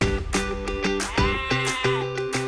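Saanen dairy goats bleating repeatedly in a loud, overlapping chorus of nasal, wavering calls, several animals close by.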